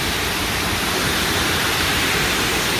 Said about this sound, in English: this is where the water comes down and actually goes through the hole into it